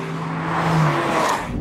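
Porsche 911 GT3 Touring engine pulling hard under full throttle up a hill onto the start-finish straight at Brands Hatch, a loud, steady sustained engine drone heard from inside the car with no talk.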